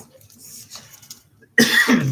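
A single loud, harsh cough bursts out after a stretch of quiet, low background noise, close to the listener.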